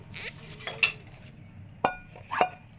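A prepared mixture goes into a cooking pot for red sauce pasta, giving a handful of sharp metallic clinks and clatters of utensil on pot, close by over faint kitchen background.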